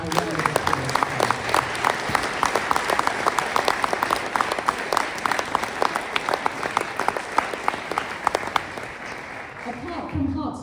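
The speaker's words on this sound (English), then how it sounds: "Can we give this nice young lady a round of applause?" An audience at a school music event applauds, dense steady clapping from many hands sustained for about ten seconds before tapering off, with a voice briefly heard near the end.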